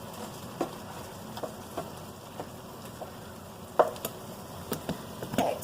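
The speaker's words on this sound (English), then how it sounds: "Stir this turkey and onion over here." Turkey and onion sizzle steadily in a pot while a utensil stirs them, with irregular scraping knocks against the pot every second or so, close and alone without talk.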